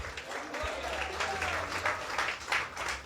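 A church congregation claps together in a steady, moderately loud wash of many hands, with faint voices mixed underneath.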